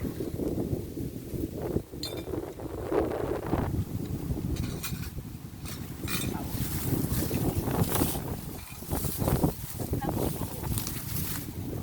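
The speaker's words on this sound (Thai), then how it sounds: "ฟังเสียงลมมาเด้อ" Wind blows outdoors and buffets the microphone in continuous rumbling gusts that rise and fall, while people talk over it.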